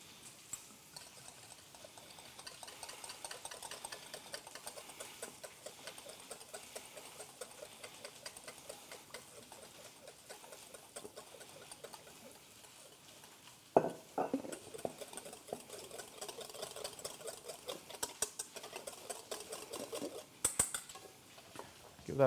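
A whisk beats salad dressing with salt, pepper and extra virgin olive oil in a bowl, making a long run of fast, steady rhythmic clicking and tapping that pauses briefly and resumes, close and moderately loud.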